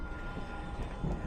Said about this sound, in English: so you can see everybody stops when the train goes by